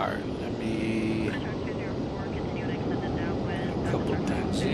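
A Breeze Airways jet takes off nearby with a sustained, loud broadband engine roar that stays steady throughout, and a voice talks over it.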